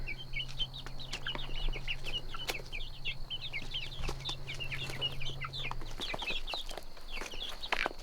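Young Whiting True Blue chickens from Murray McMurray Hatchery, teenage birds, cluck and peep in a busy chorus of short chirps close by, with a low hum and occasional thumps under them.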